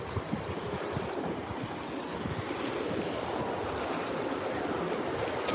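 Sea waves break steadily on a small pocket beach while wind buffets the microphone, a continuous broadband wash of surf with no talk.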